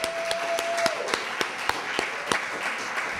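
Audience at a library poetry reading applauding a poet, a steady wash of many hands clapping with sharp individual claps standing out, fairly close and sustained throughout.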